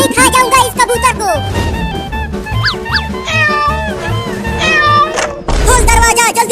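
Pet cat meowing in a lively household scene with a pigeon nearby, its cries mixed into a busy, loud soundtrack of music, thumps and other sounds.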